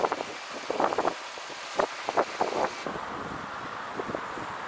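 Wind buffets the microphone in a steady roar with gusty swells at a gas station in Puerto Natales, and faint bursts of other sounds come through underneath.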